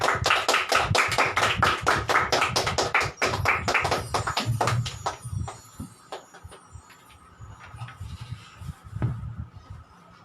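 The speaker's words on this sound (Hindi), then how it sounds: "हम जोरदार तालियों के साथ उनका स्वागत करते हैं" A church congregation claps loudly to welcome a preacher, a burst of rapid, overlapping handclaps that fades after about five seconds into a few scattered claps.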